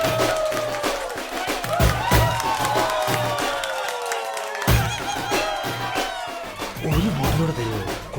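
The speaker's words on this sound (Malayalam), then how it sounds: "ഇവർക്കും വേണം ഒരു നല്ല കയ്യടി കൂടി." An audience at an Onam stage event breaks into applause and cheering, with whoops and shouting voices over steady clapping that carries on throughout.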